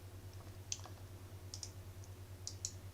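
Several sharp computer mouse clicks, spaced irregularly, on a desktop while arranging slide objects, sounding close and crisp over a steady low electrical hum.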